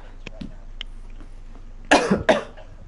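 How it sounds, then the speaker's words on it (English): A couple of harsh, close coughs in quick succession follow a few faint, quiet noises. "As I have a cough."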